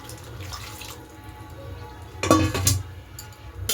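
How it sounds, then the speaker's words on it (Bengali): Water is poured into a pan of cooking peas curry, a short splashing gush close by after a quiet stretch of low kitchen background. "এবার জলটা দিয়ে দেব।"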